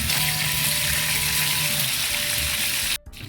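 Chicken pieces deep-frying in hot oil, a loud, even sizzling hiss close up that stops abruptly near the end.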